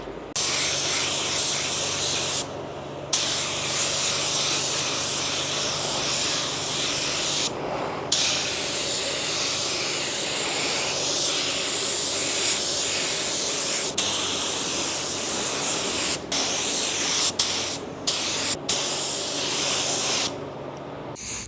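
A paint spray gun lays down a coat of clear, producing a loud, continuous hiss that runs for long stretches, broken by a few brief pauses where the trigger is released.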